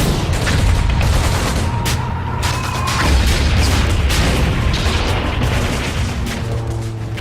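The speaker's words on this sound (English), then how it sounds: "Rocket launchers, mortars, and 85 machine gun nests tear into the Americans." Dense battle din of the Omaha Beach landing: machine-gun fire, mortars and rocket launchers with heavy explosions, a loud continuous barrage of booms and bursts with no let-up.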